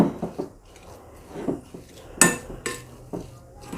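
Spoon clattering against a bowl while black pepper and other fasting-recipe ingredients for sabudana appe are mixed, irregular clinks and scrapes with a couple of sharper knocks, close and alone.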